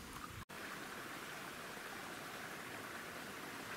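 River water flowing over a village path in Blangy-le-Château, Calvados, after heavy rain, a steady close rushing wash that stays even throughout, with one brief break near the start.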